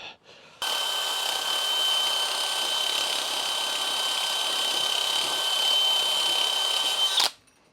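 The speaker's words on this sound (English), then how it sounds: "what I'm going to do is just grind it down real quick" Power grinder grinding down a metal New Holland L22 skid steer hub, one steady, loud, high whine that lasts several seconds at close range, then cuts off.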